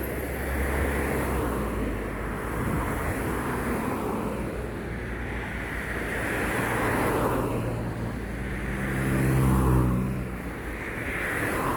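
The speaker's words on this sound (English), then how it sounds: "Early morning traffic, people going to work." Early morning road traffic as people drive to work: a broad, low rumble of vehicles swells and fades in slow waves as cars pass at a moderate distance.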